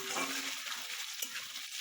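Close, steady sizzling of chopped potatoes and onions frying together in a pan over cumin tempering, a bright constant hiss with a single clink of utensil midway and no talk.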